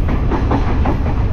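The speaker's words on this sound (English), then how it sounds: "We got a little train curve coming along there." A train in Sri Lanka rolls along the tracks with a steady low rumble and faint rhythmic clatter, continuous and close throughout.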